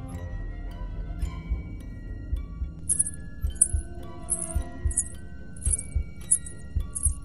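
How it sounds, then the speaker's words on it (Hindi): Ankle bells (payal ghungroo) jingle in short, evenly spaced bursts, like slow footsteps, over a low ticking background in a quiet night setting. "उसे किसी के पायल की घुंघरू की आवाज सुनाई दी।"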